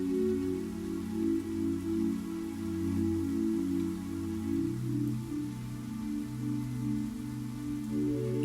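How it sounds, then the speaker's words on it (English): Light rain falls around a mountain cabin, a soft steady patter that stays even and continuous, with a low, droning hum underneath. "The rain is light, refreshing, each drop cool against your skin."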